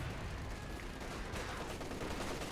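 Rapid machine gun fire from an MG team in Company of Heroes 2 rattles continuously at a faint, distant level, blending into dense battlefield noise.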